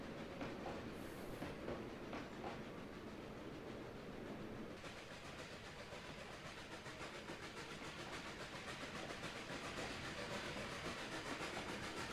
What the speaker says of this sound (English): This locomotive has one of my favorite sound sets in game right now.